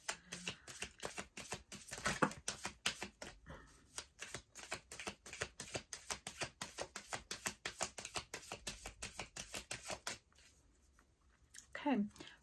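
A deck of tarot cards is shuffled in a fast, steady run of crisp riffling snaps that lasts about ten seconds, then stops briefly before a short final flurry.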